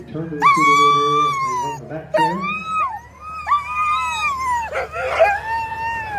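Sled dogs at an Alaska sled dog race give high yips, whines and howl-like cries, loud and close, in rising and falling bursts with short gaps between them.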